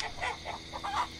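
Chickens in the horror video game The Hollow Shift give several short, soft clucks in quick, uneven succession, close by, with no talking.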